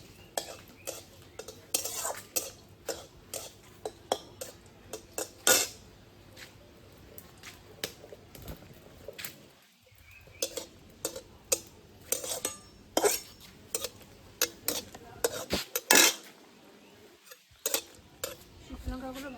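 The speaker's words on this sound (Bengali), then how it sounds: "শুকনো লঙ্কাগুলো ভাজা হয়ে গেছে," Dried red chillies are fried in hot oil in a wok and stirred with a metal spatula, producing irregular scraping clinks and taps over a faint sizzle, close and fairly quiet.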